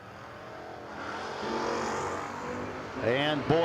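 A fourth-generation Camaro makes a drag strip run, its engine note rising as it accelerates from a distance, with a track announcer talking over it and a sharp revving sweep near the end.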